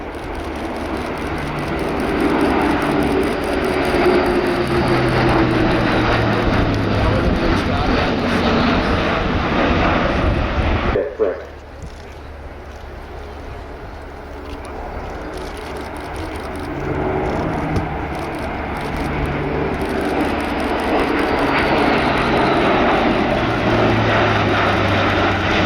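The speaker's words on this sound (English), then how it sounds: "Now, bringing the aircraft in for a short landing." A military tanker aircraft at the RIAT air show, a loud sustained jet engine roar that drops sharply partway through, then swells back up as the aircraft passes.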